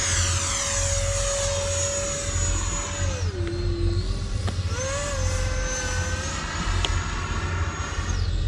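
Freewing F-22 90mm electric ducted-fan RC jet with full span flaps, taking off and flying: a steady loud high whine that dips and rises in pitch as throttle changes, heard outdoors with broad rushing noise and no talking.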